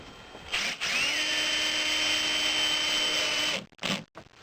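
A power drill drives a screw into a shed roof with a steady high whine lasting about three seconds, followed by a short stop-start burst as it finishes.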